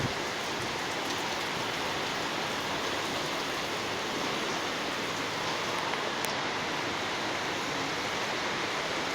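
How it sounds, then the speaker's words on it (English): Heavy stormy rain pours steadily over Kingston, Jamaica, a dense, continuous hiss of falling water with no voices, loud and unbroken throughout. "This is a stormy rain."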